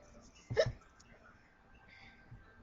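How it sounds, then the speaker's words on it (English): A single sharp hiccup bursts out near the start, followed by quiet room sound and a faint trailing breath. "Oh, you got hiccups?"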